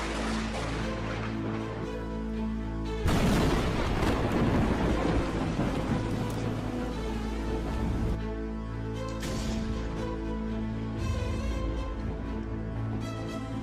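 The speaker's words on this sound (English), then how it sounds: "Look at this powerful lightning strike that destroyed the tree." Thunder from a lightning strike that destroyed a tree, set in a thunderstorm: a loud, sustained rumbling crash swells about three seconds in and rolls on over steady rain, with further surges of rumble toward the end.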